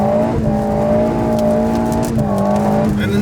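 An Alpine A110 S sports car pulls hard in second gear on an Alpine mountain road, its engine a loud, close, steady drone that climbs in pitch, dips briefly at a shift, then rises again with faint tyre noise.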